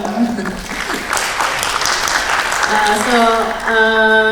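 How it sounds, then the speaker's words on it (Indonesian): Audience applause at a blockchain industry panel event, steady clapping that carries along with a voice and tonal music rising near the end. "Tepuk tangan dulu dong teman-teman"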